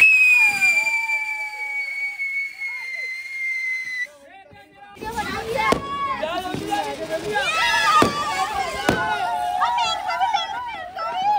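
Fireworks rockets set off outdoors during a night-time celebration: a sustained whistling shriek, then a short lull, then a busy run of sharp crackles and pops with more whistles, loud and close, with people shouting and talking throughout.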